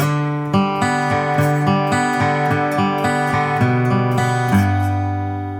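A guitar plays the first bar of the traditional tune "A Man of Constant Sorrow": a short melodic phrase of quick, even picked notes over sustained chords, ending on a ringing held note. No voices.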